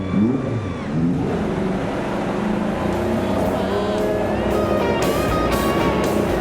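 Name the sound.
IndyCar race car engines firing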